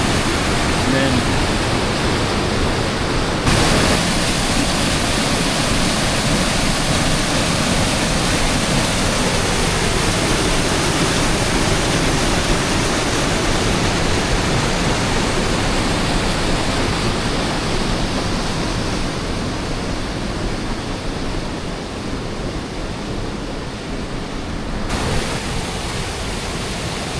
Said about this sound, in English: the creek just plunges into that little thin area. There's some deep pools of water.